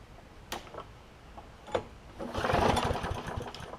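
A John Deere JA60 mower engine with a previously stuck valve and low-compression issues ticks and knocks faintly, then swells into a louder, rough rev as more throttle is given.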